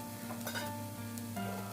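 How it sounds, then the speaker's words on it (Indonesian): Tempeh fries in a pan and is stirred, with a steady sizzle and scraping, clinking strokes of a utensil against the pan throughout, close and fairly loud, no talk. "Nah ini tempenya udah dimasukin, diaduk-aduk sebentar"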